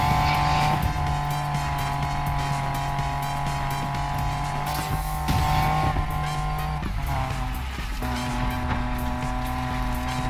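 A Lamborghini engine in Need for Speed Payback roars steadily, its pitch shifting up and down as it accelerates and changes gear, loud and continuous.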